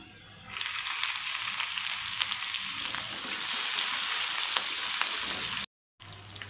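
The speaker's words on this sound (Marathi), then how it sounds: "लसूण थोडा परतला की त्यामध्ये आपण हिरवी मिरची टाकून देऊया।" Garlic and green chillies fry in a pan for a dill leaf bhaji, a close, steady sizzling hiss with a few crackles and a brief dropout near the end.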